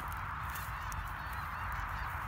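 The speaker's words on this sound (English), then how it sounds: "Snow geese." A flock of snow geese honks steadily over a constant outdoor wash, the calls overlapping into a continuous noisy chorus at moderate distance.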